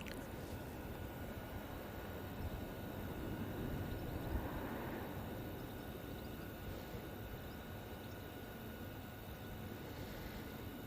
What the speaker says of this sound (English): Such a different noise the 42 has to the 72.